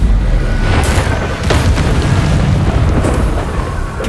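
Fiery Incendio spell blasts in Hogwarts Legacy, a loud continuous roaring rumble with a few sharper bursts near the start and middle, filling the whole stretch with no talk.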